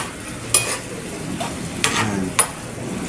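Garlic and spicy tuna sauté in a hot pan, giving a steady sizzle and frying hiss broken by three sharp clinks of a utensil striking the pan, close and without talk.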